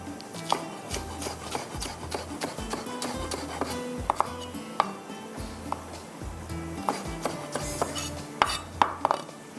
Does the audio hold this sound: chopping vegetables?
yes